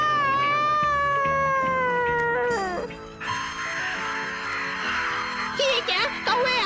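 A cartoon ninja cat meows to call its fellow cats, drawn-out wavering yowls that slide downward, followed by a burst of bright music and sound effects.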